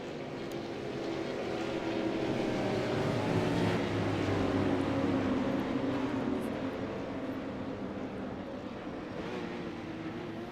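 Supercars rolling out onto the Imola circuit behind a pace car, their engines merging into a steady, broad roar that swells slightly in the middle and holds throughout, with no voices.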